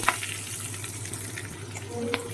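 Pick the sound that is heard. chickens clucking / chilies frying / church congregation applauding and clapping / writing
chilies frying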